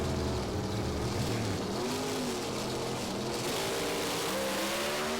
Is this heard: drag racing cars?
yes